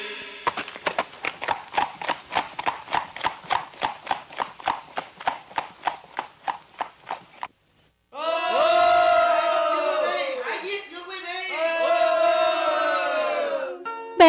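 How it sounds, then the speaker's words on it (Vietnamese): A crowd in a staged Vietnamese period drama shouts and cheers loudly in a sustained swell of voices, preceded by a long run of rhythmic horse hoofbeat clip-clops and a brief silence. "nghe tiếng của dân chúng Đang reo hò"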